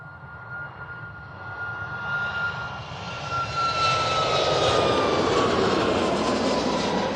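A Malta Air (Ryanair) jet airliner at Manchester Airport roars with engine noise that swells steadily louder and holds a broad, sustained rumble with a whining tone, no talk.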